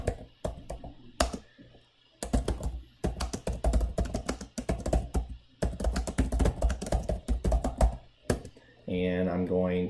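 Typing on a computer keyboard to write an email, heard as close, clicky key taps in quick bursts separated by short pauses, with a brief tonal sound at the end and no talking.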